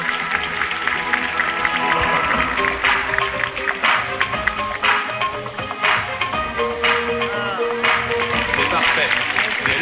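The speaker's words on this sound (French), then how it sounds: "Quelques applaudissements pour l'encourager pour le faire revenir." Audience applause at a sea lion show at Beauval zoo, steady clapping through most of the stretch, mixed with music and an announcer's voice over a busy outdoor crowd.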